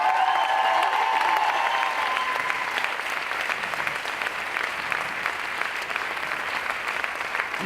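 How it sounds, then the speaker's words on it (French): A dance show audience claps continuously, a dense wash of applause with a few whistles early on, sustained at a steady level throughout. "faites du bruit pour Salsa Jeep."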